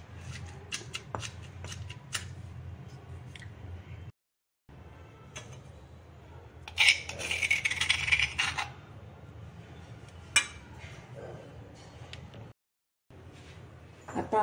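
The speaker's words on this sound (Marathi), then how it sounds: "अजून थोडं कुटून घेऊ आपण, एक जीव करून त्याला" Green chillies and peanuts are hand-pounded into a coarse thecha, giving irregular crushing knocks and gritty scraping that come close and fairly loud, broken by two brief pauses.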